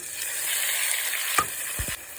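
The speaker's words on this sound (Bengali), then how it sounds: "এখন চাউমিনটা ঢেলে দেব" Vegetarian chowmein tipped into a frying pan over fried potatoes and roasted spices sets off a steady, bright sizzling hiss, punctuated by a couple of sharp knocks near the end.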